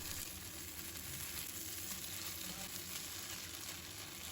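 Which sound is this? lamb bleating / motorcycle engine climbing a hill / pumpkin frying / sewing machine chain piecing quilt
pumpkin frying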